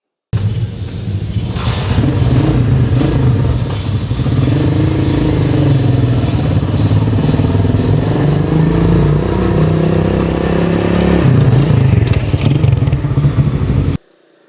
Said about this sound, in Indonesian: kita lanjut POV naik motor Mega Pro Ankle tahun